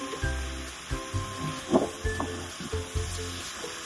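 Ridge gourd with spices frying in a pan, a soft sizzle broken by regular stirring knocks and scrapes, close and fairly loud, no talking.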